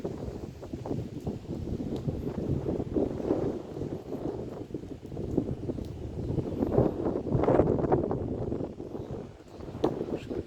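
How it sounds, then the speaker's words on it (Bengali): Gentle wind blows beside the Shitalakshya river after rain, a continuous low buffeting rush across the microphone that swells and eases, loudest midway, with no talk. "ধরছেন জিরে জিরে বাতাস বইছে"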